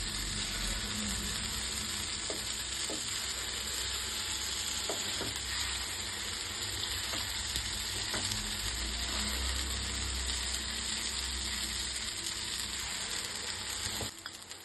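Paddu batter sizzles steadily in a hot paddu pan, a continuous close frying hiss with faint clicks and stirring, with no voices.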